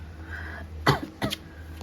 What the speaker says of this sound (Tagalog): Mabalik na naman yung ubo.